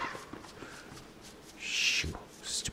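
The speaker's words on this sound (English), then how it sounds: "What's with all the birds? I'm getting overpowered with birds." Bird calls from the video game Don't Starve, with a burst of bright chirping and hooting, owl-like cries swelling midway and again near the end, while a voice talks faintly underneath.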